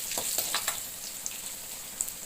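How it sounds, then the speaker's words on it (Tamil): Garlic, lentils and dried chillies frying in hot oil, giving a soft, steady sizzle with scattered light crackles and pops, close by and fairly quiet. "இந்த பூண்டு வந்துட்டு இந்த எண்ணெயில் நல்லா ஃப்ரை ஆகணும்."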